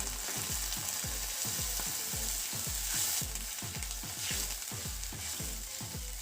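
A little water poured over well-browned fried onions in a pan for a spicy fish curry, producing a steady, dense sizzle with a rapid bubbling pulse underneath, close and loud throughout.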